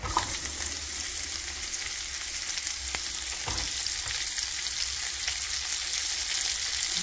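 Pork frying in a pan with onion and garlic gives a steady, loud, broadband sizzle throughout, with a couple of brief stirring clinks and no talk.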